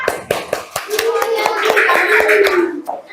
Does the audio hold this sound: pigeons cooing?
no